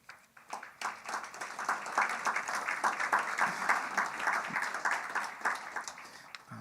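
An audience at a celebration event applauds the poet Nancy Morejón, a crowd's clapping rising quickly and holding steady and fairly distant for several seconds.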